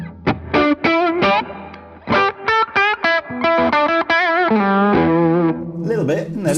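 An electric guitar plays through a Vox MV50 amp with a slight crunch, giving a run of bright picked notes and short phrases, close and fairly loud, ending on a sustained, wavering chord.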